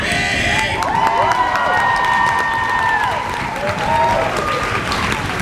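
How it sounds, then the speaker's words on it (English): Audience applause and cheering at a poetry slam final at a writers festival, loud sustained clapping mixed with whoops and excited shouts from a crowd throughout. "give a huge round of applause for Abby!"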